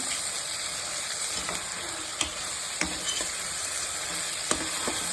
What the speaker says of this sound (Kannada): ಅದಕ್ಕಾಗಿ ಆಯಿಲಲ್ಲಿ ಫ್ರೈ ಮಾಡೋಣ